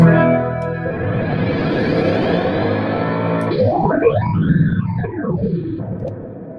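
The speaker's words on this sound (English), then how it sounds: "What if I turn on the shimmer reverb and then we will do the special effects sound?" Electric guitar through a shimmer reverb effect: a sustained, washy chord gives way to swooping, pitch-bending tones that rise and fall with heavy echoing reverb.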